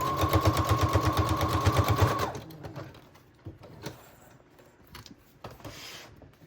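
A sewing machine runs a back stitch on a patchwork junk journal, a fast, even mechanical rattle for about two seconds, then stops, leaving scattered handling clicks and rustles.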